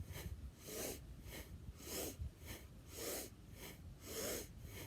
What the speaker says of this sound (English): Notice how strong the breath is.